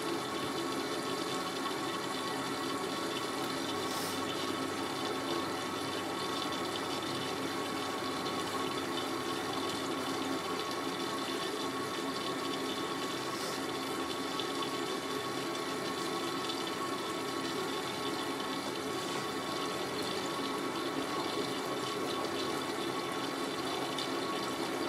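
A Miele W562 Prestige Plus washing machine fills with water for its final rinse, a steady, even hiss and rush of inflowing water held at constant level throughout, close by and without speech.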